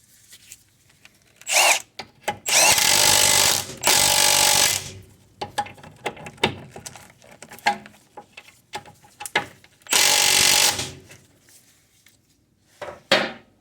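A wrench tightens the axle nut on a Honda Accord during a CV axle change, firing in loud mechanical bursts of a few seconds each, separated by quieter clinks and handling noises.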